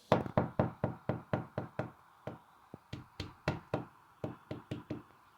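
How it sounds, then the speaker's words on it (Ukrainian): Rapid knocking on a door in the Avatar World video game, a string of crisp, loud raps in two quick rounds with a short pause between, close and alone without speech. "Хтось стукає."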